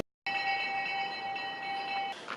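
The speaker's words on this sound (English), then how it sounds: "That was the bell for breakfast." A breakfast bell rings at camp, one sustained bright metallic tone that holds steadily for about two seconds, close and loud with no talking.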